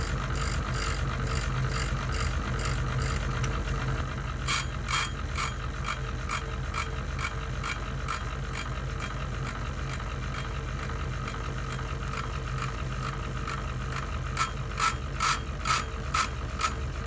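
A steady mechanical whir of a rotating Parkside PNTS 250 C2 water-cooled bench grinder sharpening wheel, with rapid ratcheting clicks in bursts near the middle and end.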